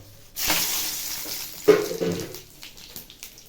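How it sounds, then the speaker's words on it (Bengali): Cabbage hits hot oil seasoned with cumin, bay leaf and dried chili, bursting into a loud sizzle, then a second sharp crackling surge that settles into a softer frying hiss. "এই দেখুন আমার তেল গরম হয়ে গেছে, বাঁধাকপি চাপাবো, ফোড়নে দেবো জিরে, তেজপাতা আর শুকনো লঙ্কা।"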